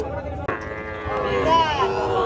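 A calf lows at a busy rural cattle market in Muktagacha, a drawn-out nasal moo rising over the steady din of the crowd and nearby chatter.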